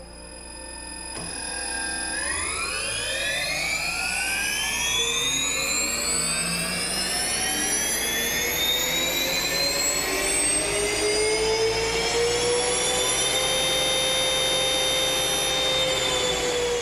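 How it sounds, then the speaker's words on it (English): A Bugatti hybrid all-wheel-drive car's naturally aspirated V16 roars continuously as it accelerates, its pitch climbing steadily and staying loud and close for a long sustained pull with no voices. "you get the performance immediately with the roar of a V16 naturally aspirated engine"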